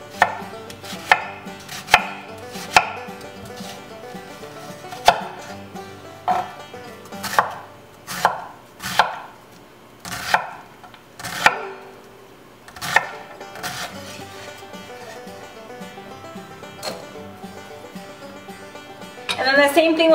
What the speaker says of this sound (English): So I'm going to take my onion and dice it pretty finely.